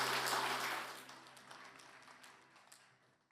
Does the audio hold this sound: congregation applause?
yes